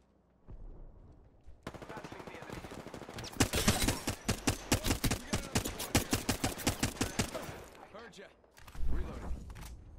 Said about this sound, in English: A second squad is firing at us.